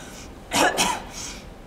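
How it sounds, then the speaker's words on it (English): A single short cough, two quick harsh bursts close to the listener, followed by a faint breath in a quiet room. "How long have you had that cough?"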